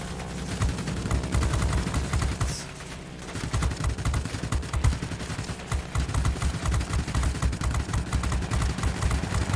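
Rapid aircraft machine-gun fire in the World of Warplanes flight game, dense crackling bursts that run almost without pause over a steady engine drone, loud and close, with one short lull.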